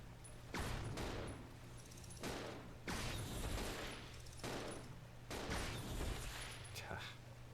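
Repeated bursts of gunfire in Resident Evil Zero, several volleys of shots in quick succession with brief pauses between, loud and close over a steady low game hum.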